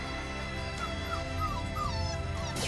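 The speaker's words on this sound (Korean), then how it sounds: "하루가 멀다 하고 어미를 찾아 낑낑대며 우는" A stray puppy left by its mother whimpers with thin, rising high-pitched whines that come and go over a dense, steady background, fairly faint under the other sound.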